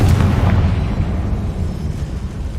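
A Confringo explosion spell in the Hogwarts Legacy video game gives a loud, booming blast that rolls on as a continuous heavy rumble.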